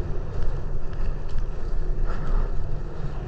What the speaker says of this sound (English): It is awfully windy.